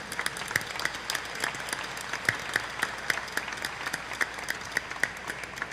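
Applause for physical education professionals at the Rio de Janeiro state legislative assembly, a moderately distant crowd clapping steadily, with individual sharp claps standing out in a loose rhythm.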